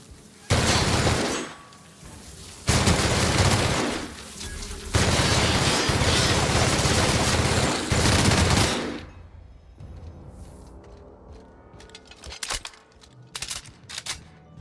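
Machine gun fire from The Outer Worlds comes in three long, loud sustained bursts, followed by quieter scattered shots and clicks.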